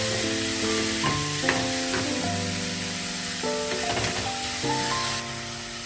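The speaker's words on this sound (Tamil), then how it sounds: "தக்காளி நல்லா வதக்குங்க." Tomatoes sautéing in a pan for a chicken curry give a steady, close sizzle that runs the whole time beneath tonal background music.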